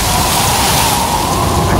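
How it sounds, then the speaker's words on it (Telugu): Heavy rain pours down in a storm as thunder rolls, a dense, loud, continuous roar of falling water with a low rumbling undertone throughout, no voices. "వినపడట్లా, ఓరు మొదలైంది. వాయుగుండం యమగండం ఒకేసారి స్టార్ట్ అవుతాయి."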